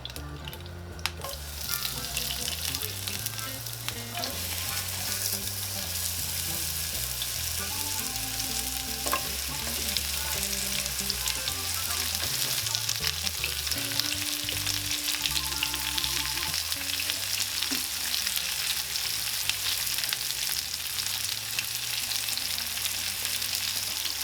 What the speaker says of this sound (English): we want to soften these babies up and get them sauteed real good